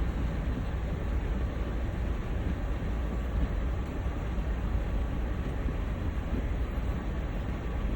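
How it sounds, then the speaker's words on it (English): Train passing in the Train Sim World video game with a CSX heavy haul freight, a steady broad rumbling roar that holds evenly throughout, with no break. "Can't hear if it's starting because of the train going past."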